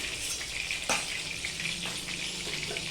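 Tempering spices, radhuni and a chili, sizzling in hot oil in a pan for dud sukto: a steady, close hiss of frying with a few brief pops and stirring knocks.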